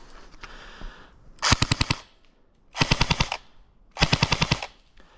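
An airsoft gun styled after Modern Warfare 2 weapons fires full auto in three short bursts of about six rapid, sharp shots each, with quiet pauses between, close and loud for a rate-of-fire test.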